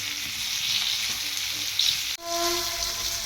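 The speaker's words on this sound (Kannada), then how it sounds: "ಈ ಸೈಡ್ ಒಂದಿಷ್ಟು ಎಣ್ಣೆ ಹಾಕಿ ಈಗ ಚಲೋ ಹೊತ್ನಾಗ ಫ್ರೈ ಮಾಡಂತೆ" River fish frying in oil in a pan for an Uttar Karnataka fish fry, a steady loud sizzle throughout with a brief dip near the end before the crackling resumes, no talk.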